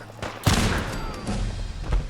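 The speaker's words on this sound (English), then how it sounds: "Avoid the gunfire, too." Gunfire in Fallout 4 during a firefight on the plains: a burst of shots at about half a second, then a dense, continuous clatter of rapid fire with booming low thuds, loud and close.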